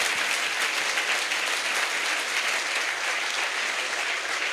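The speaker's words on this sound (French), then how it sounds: "Let's clap to Lord Jesus." A congregation at a salvation and healing crusade in Bafoussam applauds in a dense, steady roar of clapping that lasts the whole moment.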